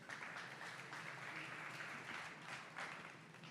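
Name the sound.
clapping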